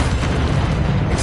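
A loud, dense roaring burst from the Incendio fire spell cast in a Harry Potter video game fills the whole moment, close and unbroken.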